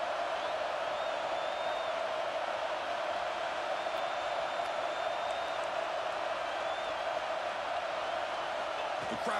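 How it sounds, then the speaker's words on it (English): A college football stadium crowd at an Ohio State vs. Miami bowl game roars in a constant, dense wall of noise on fourth down, with faint whistles riding on top. "The crowd is roaring, trying to help this defense on fourth down"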